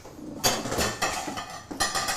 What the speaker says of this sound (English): I'm just stirring our mash every now and then, just to make sure it's not sticking and burning.